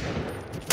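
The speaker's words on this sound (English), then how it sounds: "I shot! I swear to God, I shot!" Gunfire in Krunker.io, a short burst of rapid shots with a sharp, loud crack arriving at the very end after a muffled rumble.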